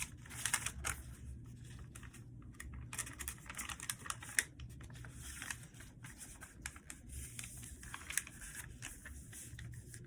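Paper being squash folded into an origami fighter jet: close, quiet crinkles, creases and taps come in irregular bursts, with brief pauses between the handling sounds.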